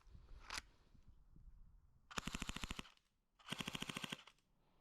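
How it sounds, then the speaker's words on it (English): A full-auto BB gun fires two rapid bursts of about a second each, sharp evenly spaced cracks at close range, after a single earlier shot and a quiet pause. "this guy does have full auto, so let's see how fast this guy shoots"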